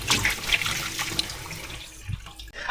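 A kitchen tap mixing hot and cold water runs in a steady, rushing stream that splashes close by, with some brief clatter toward the end and no speech.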